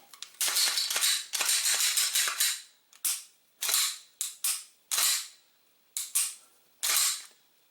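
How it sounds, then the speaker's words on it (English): A Glock 21 .45 pistol's trigger resetting and being pulled gives close, sharp mechanical clicks. About a dozen come in irregular pairs and short runs, with no talking. "Trigger reset. Click, pull. Click, pull."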